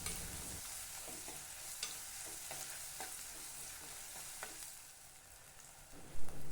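Garlic thokku sautéing in oil in a pan, a steady close sizzle with occasional stirring clicks and scrapes, fading slightly near the end before a louder knock.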